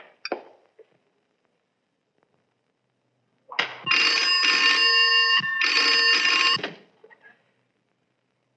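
Telephone rings on a 1970s Hindi film soundtrack after a number is dialed: two close, loud, bright electric bell bursts, each about a second and a half long and separated by a brief gap, with a few faint clicks beforehand and no speech.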